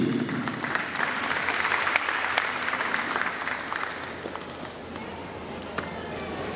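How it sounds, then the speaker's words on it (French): Warm, sustained applause from a seated audience at a morning graduation ceremony honoring parents, steady and fairly full, gradually tapering toward the end with a few quiet murmurs. "que je vous demande d'applaudir chaudement ce matin"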